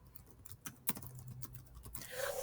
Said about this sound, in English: I can either type in classroom.google.com